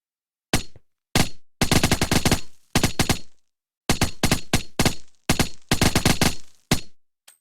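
Gunfire in the video game Crafting Dead, loud close bursts of rapid automatic shots separated by short silences, roughly eight volleys in quick succession.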